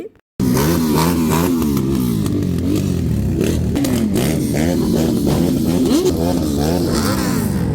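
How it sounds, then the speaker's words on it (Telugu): Loud motorcycles rumble past close by during a parade, engines droning and revving continuously with shifting pitch as bikes pass, with no speech. "బైక్స్ వచ్చినప్పుడు మాత్రం మామూలుగా కదండి చెవులు అయితే బద్దలైపోయాయి"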